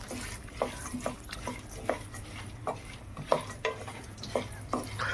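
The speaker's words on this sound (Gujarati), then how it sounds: "પમ્પકિન સીડ, પછી સનફ્લાવર સીડ અને વોટરમેલન સીડ. આ 3 જાતના સીડ નાખી અને હલાવી દઈશું." Pumpkin, sunflower and watermelon seeds roast in a pan over low heat while a spoon stirs them, with repeated scraping clinks at an uneven rhythm over a soft, steady sizzle, close and fairly quiet.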